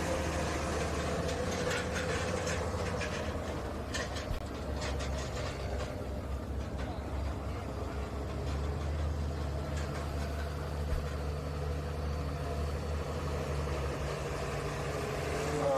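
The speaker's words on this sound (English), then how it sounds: "This will be Logan Neely doing the driving on the Farmall M called the Roy Toy." A Farmall M pulling tractor with a Cadillac engine runs at a tractor pull at the Ashtabula County Fair in Jefferson, Ohio, making a steady, loud, rumbling engine drone that continues without a break, with no talk.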